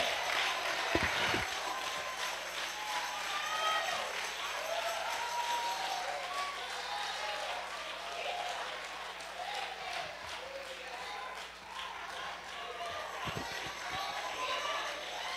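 A church congregation claps and cheers in a steady, dense wash of applause that runs throughout, with scattered voices and shouts mixed in.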